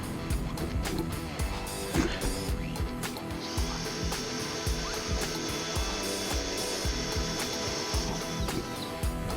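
A power drill bores out a snapped bolt, a steady high whine running through the middle of the clip over constant workshop rumble and repeated low knocks.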